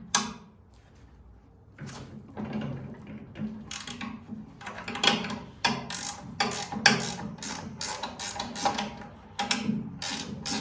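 A half-inch wrench working on the bolts of a chipper shredder's chute, with repeated metallic ratcheting clicks and clanks in short irregular bursts, close up and fairly loud.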